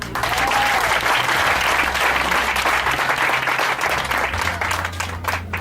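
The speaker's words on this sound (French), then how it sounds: "Est-ce qu'on va acclamer le Seigneur?" A church congregation at a Sunday service applauds and acclaims the Lord with loud, sustained, dense clapping from a large crowd, steady throughout, with faint voices beneath.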